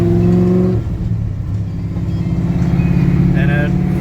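A car engine with a manual steering setup holds at about 2,500 RPM, its steady mid-pitched hum following an abrupt change in tone near the start, with someone talking over it.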